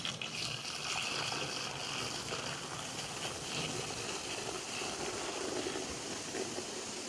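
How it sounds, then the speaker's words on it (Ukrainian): Oxygen bleach powder dissolving in several litres of hot water gives a steady, close bubbling fizz that hisses continuously without a break. "Порошок вступив в реакцію, бушує."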